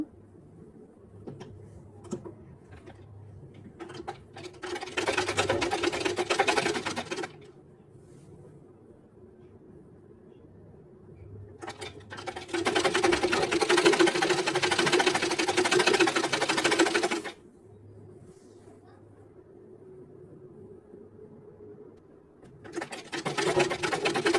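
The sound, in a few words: sewing machine stitching blouse shoulder seam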